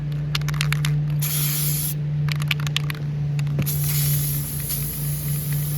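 Bursts of aerosol spray paint hissing close by onto an ornament, in several pulses of a second or two, with a steady low hum underneath.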